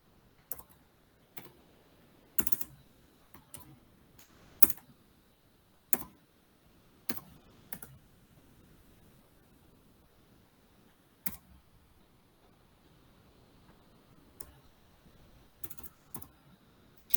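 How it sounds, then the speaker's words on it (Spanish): Someone types on an unconventional computer keyboard with sparse, irregular clicks and key taps spread through a quiet room, some strikes sharper and louder than others. "Perdón que mi teclado no es convencional"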